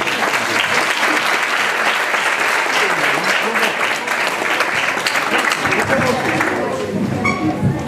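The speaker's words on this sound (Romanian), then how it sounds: "Vă rog să le aplaudați." Sustained, loud audience clapping at a local ceremony honouring young gymnasts, dense and even for most of the stretch, thinning near the end as a voice starts to come through.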